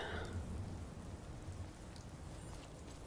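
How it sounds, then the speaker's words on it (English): Steady rain pours in the Fallout 4 game world, a dense even hiss with a low rumble underneath, sustained and fairly soft throughout with no voices. "It's raining."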